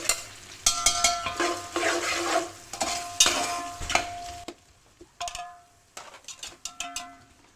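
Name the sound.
onions and whole spices frying for chicken biryani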